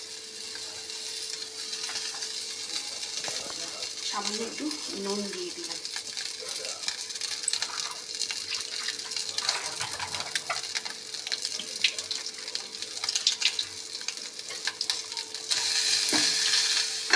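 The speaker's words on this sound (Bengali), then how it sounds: "এবার মাছগুলো দিয়ে দিচ্ছি" Fish fry in a dry wok with panch phoron and no oil, making a continuous low sizzle and hiss while a voice talks over it partway through.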